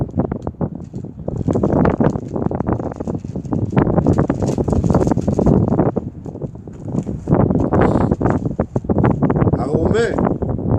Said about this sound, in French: c'est là qu'il y a comme beaucoup de vent ici